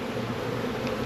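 Honey bees in a nuc hive hum and buzz in a steady, close drone, a brief continuous swarm tone with no speech.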